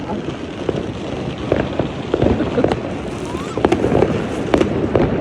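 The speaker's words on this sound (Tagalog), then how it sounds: "Natumba yung paputok nila." Fireworks and firecrackers bursting at a family New Year-style celebration outdoors, with repeated sharp cracks and pops over a dense rumbling background, some close and loud, others farther off.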